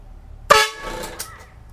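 A short, loud train horn mounted on a truck sounds once, harsh and brassy, fading quickly with a brief echo-like tail.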